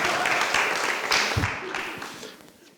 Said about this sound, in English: Clap for Don